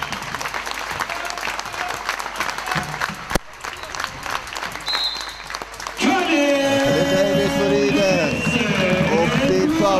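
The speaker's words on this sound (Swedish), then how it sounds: "då tar vi ställelse upp och klappar hem denna match också" Home crowd in a basketball arena claps through the end of a Köping versus Helsingborg game, steady dense applause for several seconds, then a loud sustained tonal sound takes over while the crowd noise continues beneath.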